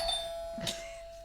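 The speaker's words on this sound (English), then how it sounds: "come in at you with the doorbell" A single electronic doorbell chime rings out clearly, a two-tone ding with a lingering ring in a quiet room.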